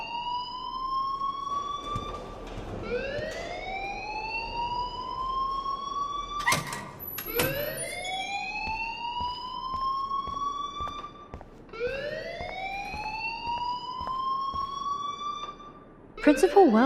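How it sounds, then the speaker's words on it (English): A school alarm in Life is Strange wails in repeated rising siren sweeps, each climbing and holding before starting again, loud and near, with a sharp clatter near the end. "please turn off that alarm since that's your job"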